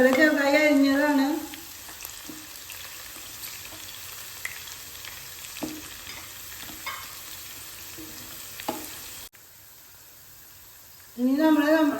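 Chopped curry leaves frying in hot oil for vadpuli pickle give a loud sizzle at first that settles into a quieter crackle with scattered pops and stirring sounds. A second burst of sizzling comes near the end, and someone talks over it in places.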